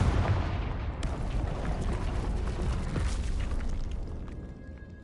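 Confringo explosive spell cast in a Harry Potter-style PS4 video game, a heavy rumbling blast that booms at the start and then fades into a drawn-out roar.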